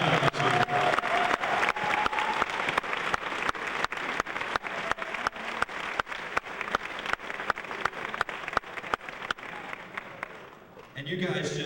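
Sustained applause from an audience at the International Mr. Leather 2000 contest, many hands clapping steadily at moderate loudness for several seconds, with a few crowd murmurs, before dying down and giving way to a voice.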